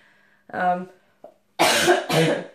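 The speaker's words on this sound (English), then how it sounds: "Excuse me, I'm still coughing." Two harsh coughs close together, preceded by a brief throaty vocal sound and a short catch, loud and near with no speech.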